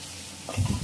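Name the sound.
masala sizzling while frying on slow gas flame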